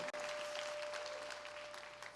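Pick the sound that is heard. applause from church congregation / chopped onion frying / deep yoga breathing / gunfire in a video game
applause from church congregation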